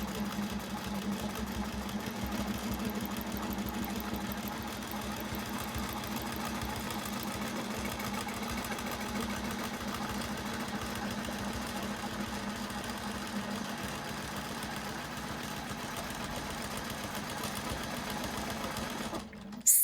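Sewing machine quilting fabric with a Westalee Spin E Fex ruler, a steady fast mechanical whirring hum running continuously and alone for about twenty seconds before stopping.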